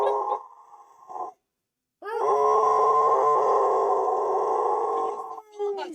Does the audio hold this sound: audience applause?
no